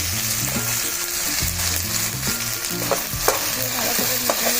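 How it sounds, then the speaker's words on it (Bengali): Onions fry in hot oil for chicken curry with a loud, steady sizzle up close and occasional stirring scrapes, over background music and without talking. "এবার দিয়ে দিব পেঁয়াজ।"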